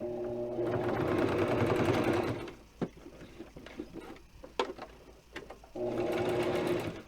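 A sewing machine runs loud and close while stitching a small Barbie doll dress with Velcro, stops for a stretch of clicks and fabric handling, then starts up again near the end.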